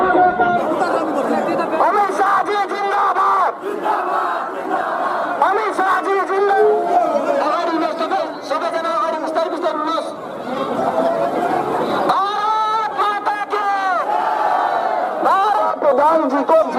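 At Amit Shah's road show in Kalimpong, a large crowd waits, loud and continuous, with dense overlapping chatter, shouts and scattered laughter all around.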